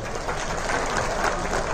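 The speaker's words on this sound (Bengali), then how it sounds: "এদের জন্য একটা জোরে হাততালি।" Loud audience applause for two hosts at a Bengali comedy show, a dense, continuous roar of many clapping hands filling the whole moment without talk over it.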